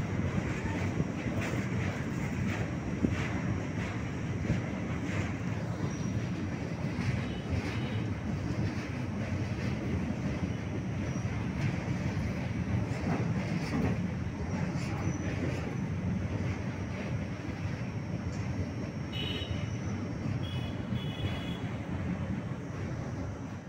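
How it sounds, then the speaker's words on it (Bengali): A passenger train pulls into Varanasi station on a foggy winter morning, giving a steady, close rumble and rattle of carriages that runs unbroken throughout with no voices. "ট্রেন একদম সঠিক সময় সকাল 9:30টায় ট্রেন ঢুকিয়ে দিয়েছে"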